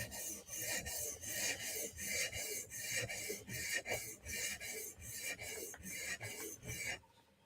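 A metal rod is honed with a 400 grit stone in rhythmic back-and-forth strokes, a close, raspy scraping repeated about a dozen times at a steady pace before stopping abruptly.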